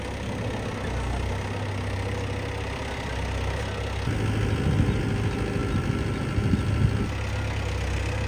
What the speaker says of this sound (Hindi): लेकिन अभी आधुनिक टाइम में ट्रैक्टर से सारा काम हो रहा है, मशीनी युग आ गया है।